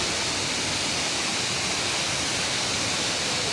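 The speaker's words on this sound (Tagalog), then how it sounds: "Dito na, talon." Budoy Falls roaring as a steady, broadband rush of falling water, loud and unbroken with no voices over it.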